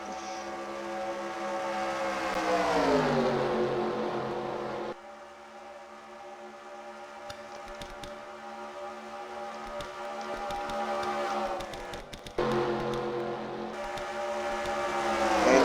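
Simulated race cars in a racing video game roar past in a pack, with engine pitches rising and sweeping down as they pass, a quieter stretch of distant whine in between, then another loud pass.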